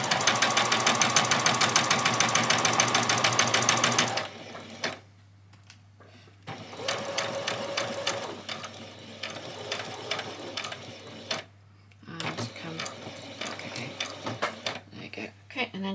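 A sewing machine stitches ruffles in yellow thread for a spring outfit, running in a loud, fast, rattling burst for about four seconds. Shorter, quieter runs of stitching follow, broken by pauses while someone talks.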